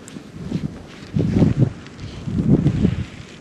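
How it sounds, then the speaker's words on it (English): Wind in a snowstorm buffets the microphone in low rumbling gusts, two stronger surges rising and falling over a constant breezy hiss, close and moderately loud. "I'm back in the wind."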